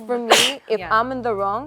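A single sharp sneeze bursts out near the start during casual conversation, with a person talking before and after it.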